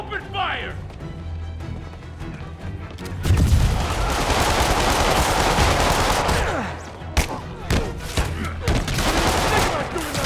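Heavy gunfire erupts in Marvel's Spider-Man, a loud sustained burst of automatic fire with crashes and impacts after a quieter opening, mixed with shouted voices and game music.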